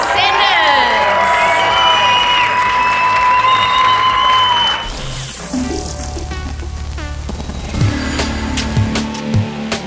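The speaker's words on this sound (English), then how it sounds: "Can I get a huge round of applause for our senders?" A crowd at a Cape Town climbing competition cheers, whoops and applauds loudly for several seconds, then settles into lively murmuring with scattered shouts and a voice talking over a loudspeaker.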